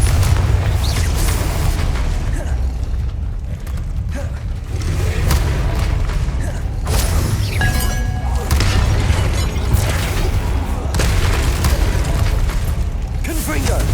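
Fiery Confringo blasting spells burst with booming explosions in Hogwarts Legacy, loud impacts recurring over dense, continuous combat noise and voices.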